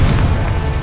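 Confringo, an explosive fire spell in Hogwarts Legacy, heard as a short, loud booming blast with a dense low rumble that holds steady to the end, no voices present.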